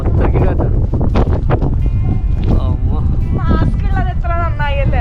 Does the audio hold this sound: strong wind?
yes